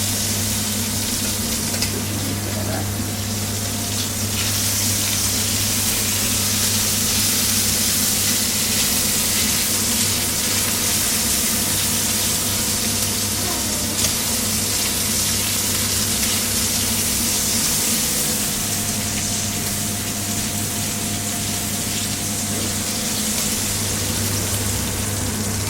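Guanciale sizzles and browns steadily in a hot pan, a constant loud crackling hiss with a low hum underneath, with no talking.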